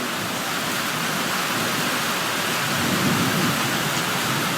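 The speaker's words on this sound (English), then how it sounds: "I was just going to show you the storm. Seems it's sitting right over the top of me." Night thunderstorm sitting directly overhead: heavy, steady rain pours continuously while low thunder rumbles beneath it, building slightly toward the end, with no voices.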